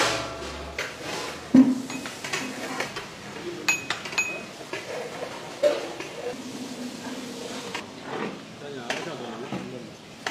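A spoon mixes biryani masala with curd and onions in a bowl, making scattered clinks and soft scraping taps over several seconds while a voice talks over the top.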